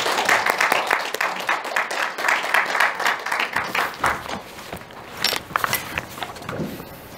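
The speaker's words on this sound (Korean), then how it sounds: "우리 축하의 박수로 환영하겠습니다." Church congregation in a Korean-language service applauding to welcome a family newly moved from LA, a burst of clapping that fades after a few seconds into quieter room sounds.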